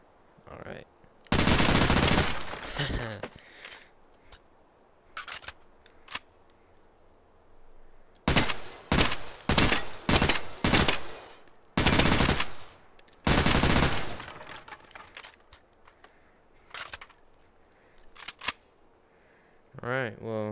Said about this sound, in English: How about some full auto now?